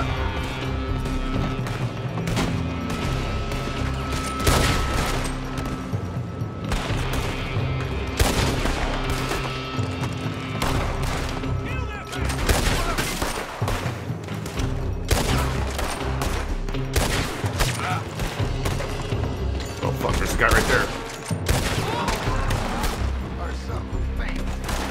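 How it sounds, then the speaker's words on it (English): Gunfire in Red Dead Redemption 2, with dense, continuous volleys of shots and sharp cracks throughout. The shooting runs beneath game music and voices. "They're shooting"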